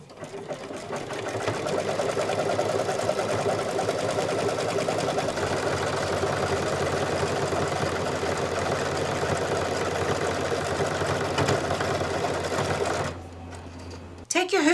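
An embroidery machine stitches a phone case held in the hoop, giving a steady, fast mechanical whirring and rapid needle chatter that runs at an even level for about thirteen seconds before cutting out near the end.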